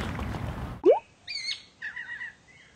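A krawao, a large black long-tailed red-eyed bird resembling a crow, gives a sharp rising note followed by several shorter nasal calls, clear and fairly close after a burst of noise.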